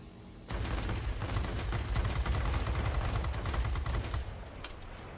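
Bf 109 K-6 guns in World of Warplanes fire one sustained volley, a loud dense rattle of rapid shots lasting about four seconds before cutting off.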